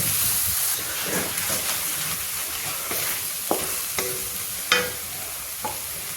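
Tomato sizzles and fries in a hot pan, a steady crackling hiss broken by a few sharp clinks and scrapes of stirring, fairly close with no talking.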